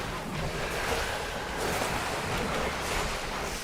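A boss wave ability washes over the raid in World of Warcraft's Nerub'ar Palace, a broad rushing surf-like roar that stays steady and loud, like crashing water, with no talking.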